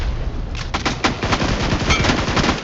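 Gunfire in the mobile battle royale game BGMI rattles out in loud, dense bursts of rapid automatic shots, continuous across the moment and heard up close without any voices.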